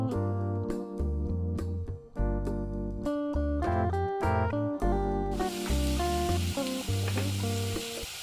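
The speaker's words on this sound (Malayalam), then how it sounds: "നമ്മൾ തയ്യാറാക്കി വെച്ചിരുന്ന സവാള കട്ട് ചെയ്തത് ഇട്ട് കൊടുക്കണം. ഇളക്കി കൊടുക്കണം." Chopped onions hit a hot pan and fry, bursting into a loud, dense sizzle with stirring after several seconds of melodic music.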